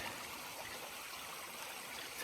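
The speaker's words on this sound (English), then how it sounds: "So I came down to the creek to filter some water" Backcountry creek in Wyoming flows steadily in a constant, close rush of water with no pauses and no voices.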